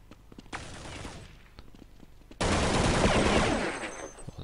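Counter-Strike match on the de_dust2 map, with scattered single gunshots and then a loud sustained burst of rapid fire that swells and fades, close and alone without talk.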